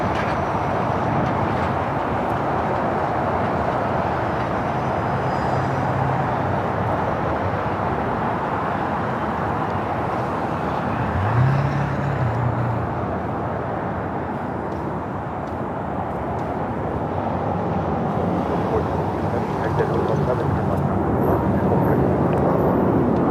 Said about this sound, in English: We got the Dreamliner heading to Tel Aviv up next for takeoff here on the south side.